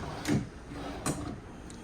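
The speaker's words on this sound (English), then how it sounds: "the four drawers here at the side, same way, slow closing" Two soft thuds, spaced about a second apart, come from slow-closing side drawers inside a 2025 Forest River Sierra 3550BH bunkhouse fifth wheel RV, heard close against a quiet room.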